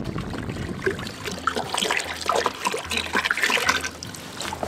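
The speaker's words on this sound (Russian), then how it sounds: "Заливаем в казан воду." Melted snow water poured into a 16-litre kazan cauldron for cooking beshbarmak: an uneven trickling, splashing pour, close and moderately loud, rising and falling in bursts with no talk.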